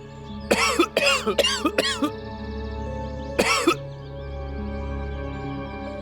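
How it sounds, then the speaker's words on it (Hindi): A man, unwell and ill in bed at home, coughs in a quick run of four harsh bursts, pauses, then gives one more cough, close and fairly loud over a low steady hum. "थोड़ी सी खांसी है"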